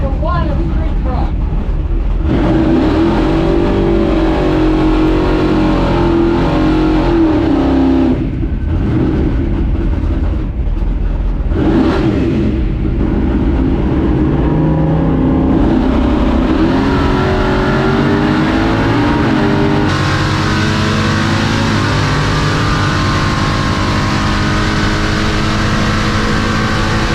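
A 700-horsepower C10 street truck makes a drag racing pass, its engine roaring loud and close for the whole run, revving up in long rising sweeps with brief dips at the gear shifts.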